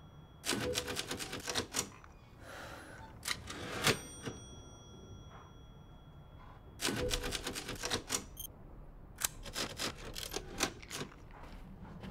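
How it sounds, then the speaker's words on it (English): Old typewriter keys being struck in a video game, fast bursts of crisp mechanical clacks in several separated runs, with a ding and short pauses between them, fairly quiet and alone. "And old typewriters."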